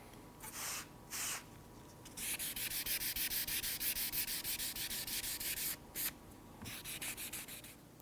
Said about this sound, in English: I'll move up to the 1200 and then do the final wet sanding with the 1500